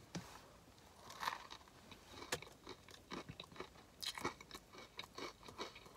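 Close, crunchy chewing of a Dave's Hot Chicken Reaper slider, a fried chicken sandwich, with repeated bites and crisp crackles in an uneven rhythm, heard alone without talk.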